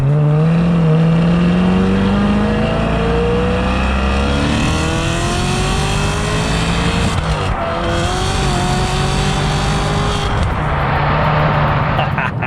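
A Maserati's engine on a home driveway revs hard and holds loud throttle, its pitch climbing and falling across several sweeps, with brief dips between pushes; close and continuous throughout.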